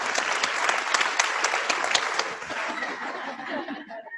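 An audience in a conference session room gives a sustained ripple of light clapping mixed with a few chuckles, steady at first and then thinning out and fading toward the end.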